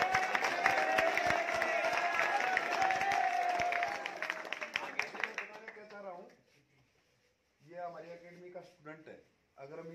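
Children clap for a birthday at an academy. Dense, sustained applause fills the first five seconds, then dies away, and an adult voice speaks afterward.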